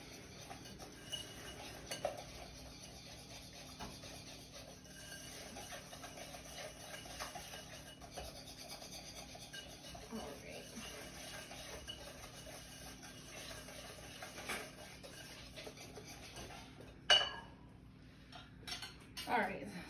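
Egg yolk is whisked into cookie dough mixture in a bowl, quiet clinking and scraping of metal against the bowl that grows into sharper, louder clatters toward the end.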